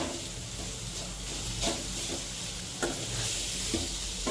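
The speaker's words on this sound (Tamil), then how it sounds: "இப்போ உருளைக்கிழங்கை நல்லா மசிச்சு விட்டுக்கோங்க" Boiled potatoes being mashed and stirred in a hot pan for a Tamil-style veg puff filling, giving a steady close sizzle with soft scraping strokes and a few sharper knocks of the utensil.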